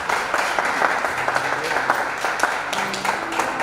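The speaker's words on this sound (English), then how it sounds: "A round of applause." Audience applause at a business programme event in a resource centre, steady moderate clapping from a crowd that continues throughout, with faint talk underneath.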